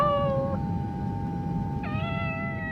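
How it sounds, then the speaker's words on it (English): A cat meows by a temple gate in the rain, two drawn-out tonal calls separated by a pause, heard clearly over a steady hum and background noise. "he noticed a cat meowing by the temple gate"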